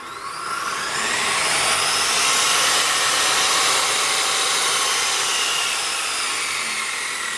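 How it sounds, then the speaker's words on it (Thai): Electric fiber cutting machine on a 3000 W TBE unit with its motor running and blade spinning, a loud steady high-pitched whine that swells slightly and holds continuously, close up, with no voices. "ใบพัดมันหมุนอยู่ มอเตอร์มันทำงานอยู่"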